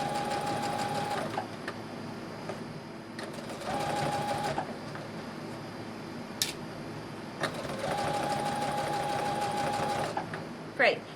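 Sewing machine running a basting stitch close to the raw edge around a dress neckline, in three sustained whirring bursts separated by pauses, fairly loud and close.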